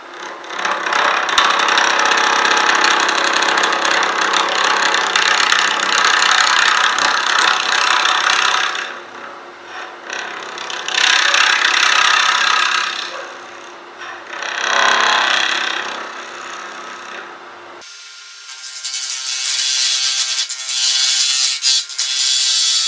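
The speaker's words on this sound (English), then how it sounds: "we're going to turn it. We're going to use the big scary skew and we're going to crank it up." A wood lathe spins at 2000 rpm while a skew cuts the turning workpiece, giving loud, rough cutting bursts over a steady motor whine. The cuts pause and resume a few times before the motor runs on alone, with no talking.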